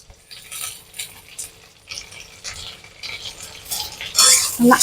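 Tomatoes are stirred in a pan for paneer curry, with a spoon clinking and scraping against the metal in uneven bursts over a faint sizzle, louder toward the end; no one speaks.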